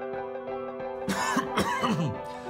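A few short, harsh coughs and throat-clearing bursts over a steady humming background, close and moderately loud.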